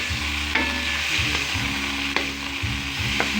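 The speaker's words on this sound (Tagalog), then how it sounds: "Gigisa ko lang po yan para madali siyang maluto." Bottle gourd (upo) sautés in a pan with a loud, close sizzle, broken by several sharp clanks and scrapes of a utensil stirring against the metal, with no talking.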